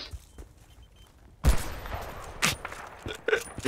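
Gunfire in Battlefield Bad Company 2 during a Rush round on Nelson Bay: after a quiet stretch a sudden loud shot erupts, followed by a spray of rapid automatic fire and further sharp cracks nearby.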